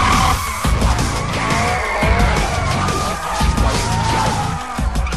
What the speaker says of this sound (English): Now we're gonna learn about linking drifts and changing direction.